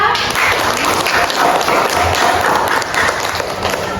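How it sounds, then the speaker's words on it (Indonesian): A classroom of students applauds at the end of a lesson on computational thinking, with dense, steady clapping that stays loud and close for the full four seconds. "kasih aplaus ya"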